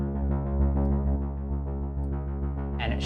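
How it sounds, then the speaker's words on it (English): A bass line pitched down a semitone, a deep sustained low tone droning steadily on its own across the whole stretch, with a brief brighter blip near the end. "So now that bass line right here is going to sound like this."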